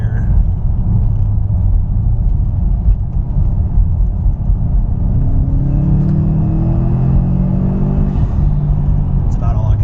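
Tuned turbocharged car accelerating hard on the road, a loud continuous rumbling engine drone with rising pitch toward the end, heard from inside the car, while a voice speaks over it.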